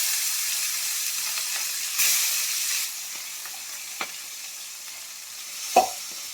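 Pieces of rohu fish frying in hot oil in a kitchen, a soft steady sizzle with occasional louder bursts of spattering and a sharp pop near the end.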